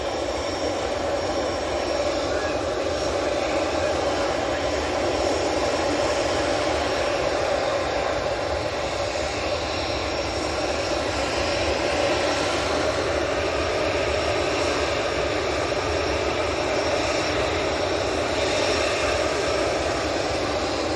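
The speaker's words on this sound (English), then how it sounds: "Transat's arriving." An Air Transat airliner arriving at Manchester Airport, its engines a steady broadband roar holding throughout with a faint high whine on top, no voices.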